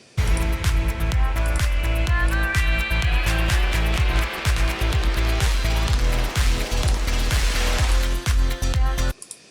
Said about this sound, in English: that's this crazy thing that colors spirals, loops out of control